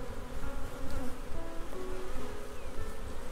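Dense, steady buzzing from a honeybee swarm around a big hive outdoors, many bees humming close by in a continuous drone with individual bees passing near.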